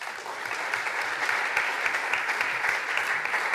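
Steady applause from a party conference audience after a political speech, a dense even patter of many hands clapping at moderate distance, with no voices over it.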